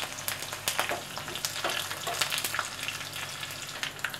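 Long-sliced green chillies sizzle in a pan for a semolina dhokla tempering, a continuous crackling fry with scattered pops and stirring scrapes, close and moderately loud.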